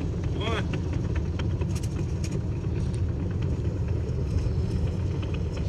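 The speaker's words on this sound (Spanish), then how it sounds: "ya está el tractor ya puchando la basura" A tractor pushes garbage at a landfill, giving a continuous low engine rumble heard from some distance, with wind-like noise and a person speaking briefly over it.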